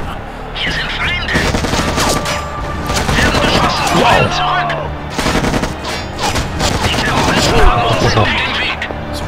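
Sustained gunfire rattles through a firefight in the PC game Act of War: Direct Action, with dense overlapping bursts and occasional heavier booms. Someone shouts briefly over the constant shooting.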